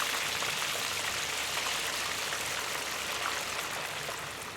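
A bread and egg cutlet shallow-fries in a little hot oil over moderate heat. A soft, steady crackling sizzle with no talk continues for the whole stretch.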